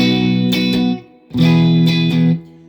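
Electric guitar played through a clean, warm blonde Deluxe Reverb amp model on a Fender Tone Master Pro with a touch of reverb, two sustained strummed phrases separated by a brief pause.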